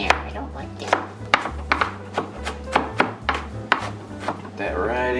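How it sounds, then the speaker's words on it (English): Hamburger meat being chopped in a pan with a hand chopping tool while making spaghetti sauce, a steady run of repeated sharp chops and scrapes, close and fairly loud over a low background hum. "I get out my favorite hamburger chopping tool."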